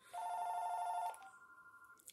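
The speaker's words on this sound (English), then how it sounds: "my phone is ringing" A mobile phone rings with a steady electronic tone for about a second, clear and close, then a softer lingering tone fades out with faint movement noise.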